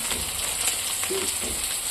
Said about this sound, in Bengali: এখানে ভাজা হচ্ছে